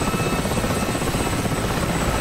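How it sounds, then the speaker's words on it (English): Helicopters in the DCS combat flight simulator give a steady, dense rotor and engine roar with a constant whine, loud and continuous, no talk over it. "Helicopters running in on base."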